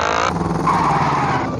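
A motorcycle engine revs loudly in a racing video game with police, a sustained buzzing drone that shifts pitch partway through, close and alone with no talk.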